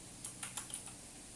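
Computer keyboard typed in a quiet room: five quick, light keystrokes in an uneven run, then silence, close and fairly soft.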